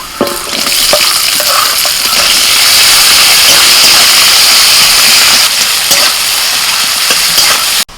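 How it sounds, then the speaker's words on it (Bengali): Onion, garlic and slit green chillies frying in a hot pan give a loud, steady sizzle and hiss, with light stirring scrapes running throughout and no talking. "পেঁয়াজ রসুন আর লঙ্কা ভেজে নিয়েছি"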